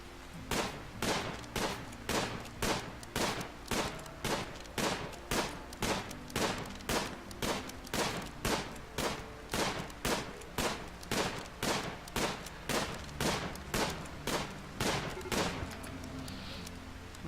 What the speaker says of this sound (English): we're just gonna shoot them as they approach across this bog.